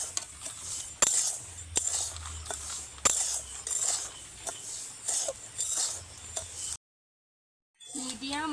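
Salt being fried and stirred in a kadai over medium heat, a metal spoon scraping and clinking against the pan in irregular strokes, with a brief silent gap near the end.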